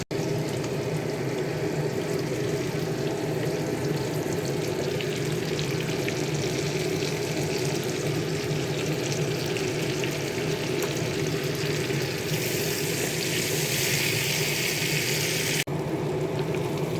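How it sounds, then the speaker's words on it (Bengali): Onion, tomato, green chilli, peas and capsicum frying in a pan for pav bhaji, giving a steady, close sizzle that crackles throughout with no talk. "পেঁয়াজ, টমেটো, কাঁচা লঙ্কা, কড়াইশুঁটি, ক্যাপসিকাম সব মোটামুটি ভালো করে ভাজা হয়ে গেছে"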